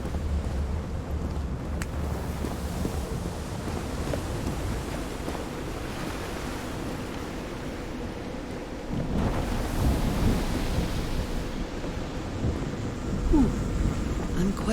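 A thunderstorm in the video game Call of the Sea: a steady roar of rain and wind with low rumbling thunder swelling in the background, continuous and fairly loud throughout.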